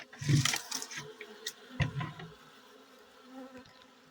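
Honey bees buzzing close by, a dense droning hum with louder swells near the start and again midway, then settling into a steadier low buzz.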